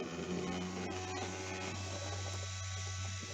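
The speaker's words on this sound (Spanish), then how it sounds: "En el caso vamos a activar primeramente el ventilador." A small electric fan in a virtual instrumentation lab setup, switched on through manual control, gives a steady low whir and hum that carries on evenly throughout.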